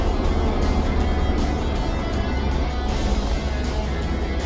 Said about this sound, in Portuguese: que delícia que é dirigir o Monza